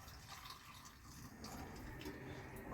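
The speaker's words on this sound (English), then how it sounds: "And so now this vinegar is perfectly hot. So we'll just pour that in over top." Hot vinegar poured into a jar over garlic cloves, bay leaf and spices, a steady splashing liquid stream filling the jar throughout, close and moderately quiet, with no talk.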